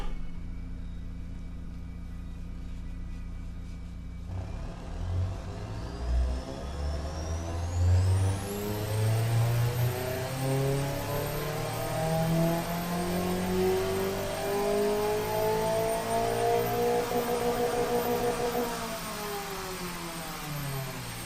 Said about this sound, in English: in the lower to low mid-range RPMs you can really hear the turbo spool up and the whistle gets a little bit louder and louder